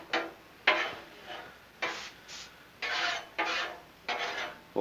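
Metal spatula strokes scraping and sliding peppers, onions and turkey across a hot Blackstone flat-top griddle, six or seven rasping pushes in a steady rhythm, close and fairly loud with a faint sizzle underneath and no talking.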